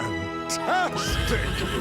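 A horse lets out one loud, close whinny that rises and falls in pitch, followed by a brief snort and faint hoof shuffling.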